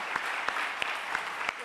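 A church congregation applauds together at a Sunday service in a steady, continuous patter, with a few sharper individual claps popping out now and then.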